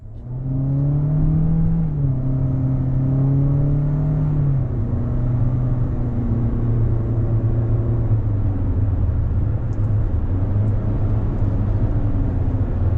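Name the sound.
2026 Toyota Corolla Cross LE AWD driving on road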